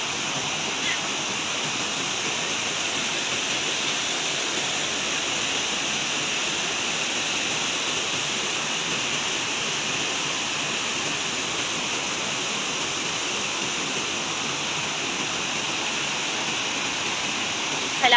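Hinguiwin waterfall at Padre Burgos, Quezon pours in a steady, loud broadband rush that holds unchanged from start to finish, with no voices over it.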